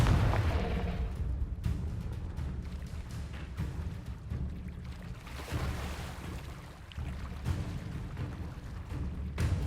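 Fiery spell blasts from the Hogwarts Legacy video game, rendered as deep booming explosions layered over a continuous loud rumble, with several sharp bursts recurring across the stretch.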